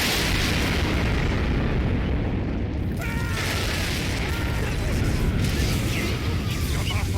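An explosion effect from a mod in The Sims sounds as a loud, sustained rumbling blast with crackling bursts and debris-like noise filling the whole stretch, alone without talk.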